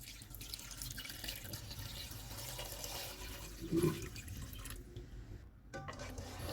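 Water pours and splashes steadily into a pot of beef with ginger, garlic, onion and spices, a continuous rushing gurgle with a brief louder slosh near the end.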